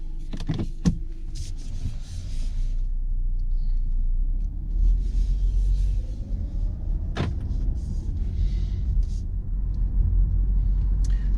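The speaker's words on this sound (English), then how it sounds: "We'll take this car for a drive, see what she's like." A low, constant road rumble fills a Hyundai Tucson Highlander SUV cabin as it drives, with a few clicks and thumps near the start and a faint whir at times.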